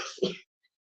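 A single short sneeze from an adult woman with a cold, sharp and close, followed by near silence.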